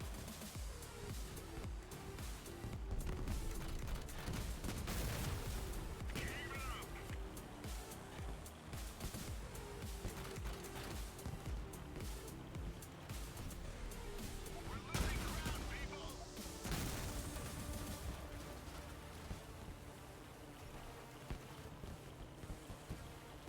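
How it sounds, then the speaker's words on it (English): Gunfire rattles in a vehicle-combat video game, with repeated shots and bursts scattered over a busy, rumbling background while a player talks throughout. "Hey, don't shoot at me."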